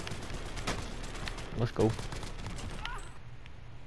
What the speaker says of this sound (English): Oh, you hear gunshots?